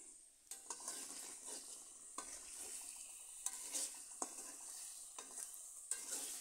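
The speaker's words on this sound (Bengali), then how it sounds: "আবারও আমি ভালো করে নাড়িয়ে দিচ্ছি" Pumpkin curry stirred in a frying pan, a steady sizzle under repeated scraping strokes of a spoon against the pan, close and fairly loud with no talk.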